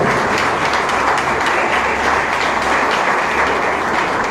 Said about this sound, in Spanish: Damas y caballeros, un aplauso